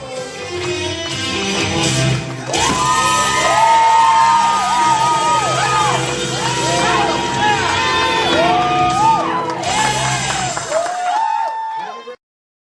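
A large crowd cheers loudly, with whoops, shouts and yells rising over a steady roar that continues for several seconds before stopping abruptly.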